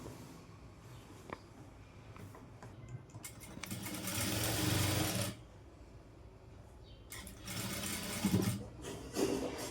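A sewing machine stitches a Punjabi dress top in two bursts, a fast, close, rattling whir that runs a second or so, pauses, then starts again.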